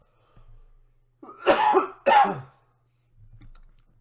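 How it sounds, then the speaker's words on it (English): Two hard, close coughs in quick succession, each with a rough throaty rasp, framed by quiet breaths before and after. "I keep coughing and coughing and coughing and coughing"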